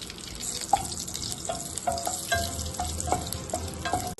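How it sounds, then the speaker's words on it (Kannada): Bay leaf, cinnamon and cloves sizzle in hot oil in a pan for jeera rice, a steady close crackle with scattered sharper pops and faint stirring clinks, no voices. "ಇದು ಪಲಾವ್ ಎಲೆ, ಚಕ್ಕೆ, ಲವಂಗ ತೊಗೊಂಡಿದ್ದೆ, ಅದನ್ನು ಹಾಕ್ತಾ ಇದ್ದೀನಿ. ಇದು ಸ್ವಲ್ಪ ಫ್ರೈ ಆಗಲಿ."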